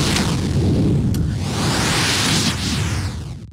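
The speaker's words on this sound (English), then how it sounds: "which it sounds a bit like a fire blast kind of being built up" A dense, roaring fiery blast from a magic attack in Old School RuneScape's Jad fight swells and rushes steadily, loud and noisy, before cutting off abruptly at the end.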